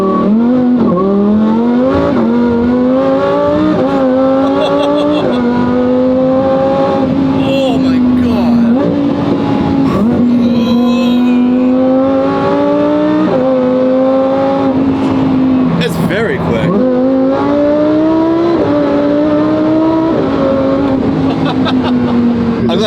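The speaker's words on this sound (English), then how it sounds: "I love the sound of the Supercharger whining." A supercharged Lamborghini STO drives hard, its engine note climbing and falling through repeated gear changes with a high supercharger whine riding on top, loud and close from inside the car, with occasional talk.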